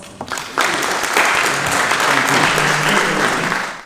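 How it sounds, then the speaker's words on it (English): An audience applauding at a Republican Lincoln Reagan Trump dinner in Alcona County, Michigan, a dense burst of clapping that swells quickly and holds steady, filling the room. "Please give him a round of applause."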